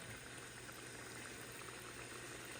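Holy basil leaves frying in hot oil over low heat, a steady, even bubbling sizzle that stays faint and unbroken, with no voices.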